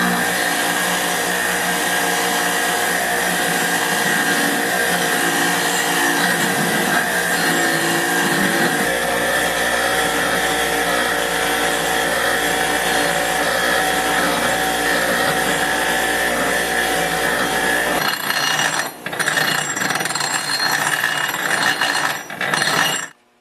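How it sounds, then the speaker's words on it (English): A small grinder fitted with a wire brush scrubbing rust off a metal shaft, a loud continuous whining buzz running steadily for about eighteen seconds before it falters and cuts off abruptly. "What works good to get the rust off is a little grinder like that with a wire brush"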